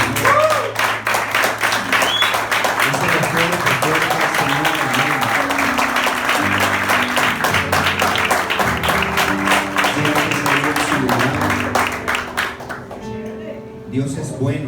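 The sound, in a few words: congregation applause in church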